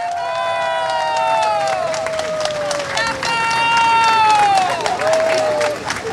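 A crowd claps and cheers for independent presidential candidate Szymon Hołownia at a rally in Biała Podlaska. The steady applause carries loud, rising and falling whistles over the top.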